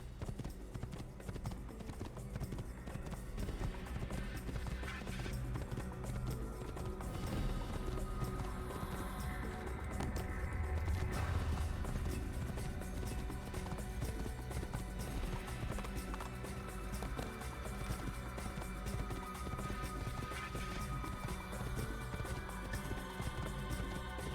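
Horse hooves clip-clop steadily through the whole stretch as a white horse is ridden in Assassin's Creed around Jerusalem, with a dense bed of game music and ambience underneath.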